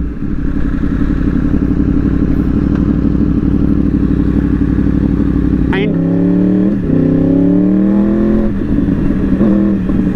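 A Yamaha R1 superbike engine drones at a loud, steady idle, then the throttle is blipped and it revs up in several rising and falling surges. The sound is close and dominates throughout.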